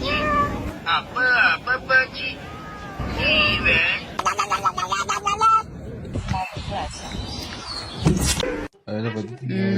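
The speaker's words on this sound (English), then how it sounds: "Look at this little kitten." A little kitten meows repeatedly in a series of short, high cries close by, with people talking around it and a few bumps and household noises between the calls.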